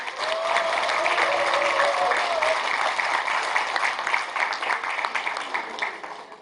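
A crowd gives strong, sustained applause to open the founding ceremony of the Gwangju chapter of a Korean political forum, with a brief whistle early on and the clapping fading toward the end.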